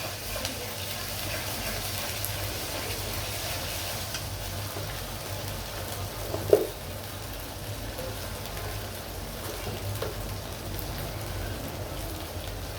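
Ginger garlic paste sizzles in hot oil in a pan, a faint, steady crackling hiss like light rain, with one brief louder pop midway.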